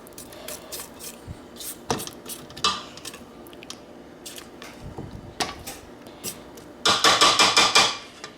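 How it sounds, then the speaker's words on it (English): A spatula scrapes the sides of a stand mixer bowl full of cake batter, giving irregular scraping and clanking knocks that end in a louder, rapid burst of scraping. "stop your mixer, drop it down, and scrape your sides down so you get everything incorporated in there."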